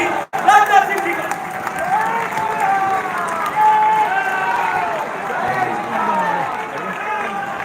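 Audience at a Lohri and Makar Sankranti gathering gives a standing welcome to a visiting defence minister, with sustained clapping and crowd noise filling the hall under a loud amplified voice.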